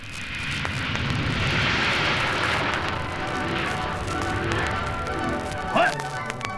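An airplane, the bat plane from a Batman audio drama, drones steadily overhead in a dramatised scene, a sustained engine roar with a short sharp accent near the end.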